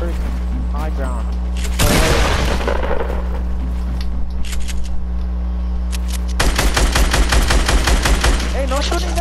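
Video game gunfire comes in two loud bursts of rapid automatic shots, one early and a longer one later, separated by quieter game sound, with a steady low hum underneath and a voice speaking.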